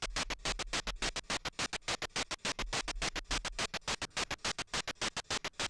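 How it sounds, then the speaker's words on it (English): A synthesized noise-channel hi-hat in a chiptune-style Cubase track, playing a fast, steady run of bright, hissy ticks with a constant low hum beneath, loud and alone. "And then we got the noise, which is mainly like a hi-hat."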